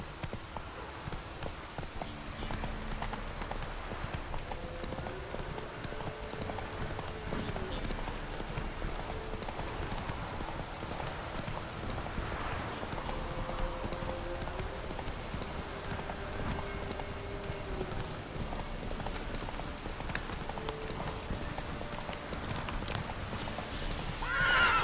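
Roach, a horse in The Witcher 3, gallops with continuous hoofbeats and neighs amid the game's outdoor ambience and music, the hooves steady and moderately loud throughout.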